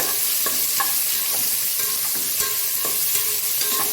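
Onions frying in spiced oil for egg biryani, a steady close sizzle with regular scraping knocks of a spoon stirring the pan, no voices.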